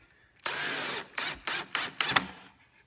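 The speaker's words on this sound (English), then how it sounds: "all you have to do is put the screw in like this" A power driver spins a screw into a pre-drilled hole in a bursts pattern: one longer whir followed by four short pulses, close and clear with no talk.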